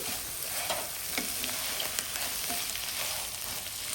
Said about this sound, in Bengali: এখন মাংস আস্তে আস্তে ছিটা শুরু করবে